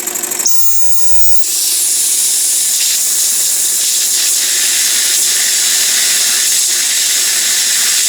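An antique Jensen or Weeden toy steam engine releases a steady, loud hiss of steam that swells after a brief quieter start and continues unbroken, close to the listener.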